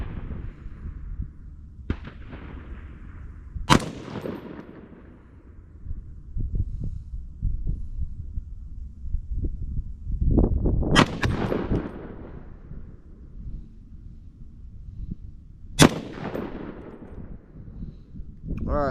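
Three loud, sharp Aero Precision .308 rifle shots firing Hornady ELD Match 168 grain ammunition, spaced several seconds apart with ringing echoes outdoors, amid rustling and handling noise.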